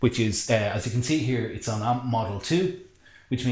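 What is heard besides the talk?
No everyday noise stands out behind the speech.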